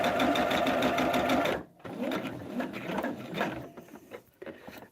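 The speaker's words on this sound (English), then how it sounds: "I'm sewing them together by machine. We don't do hand sewing of hexies. We do them on the machine." A sewing machine stitches hexagon quilt pieces together for a log cabin hexagon table topper. The stitching is close, steady and busy, breaks off briefly, then carries on more softly.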